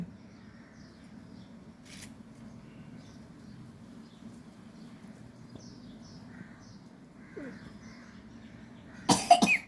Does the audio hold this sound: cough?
yes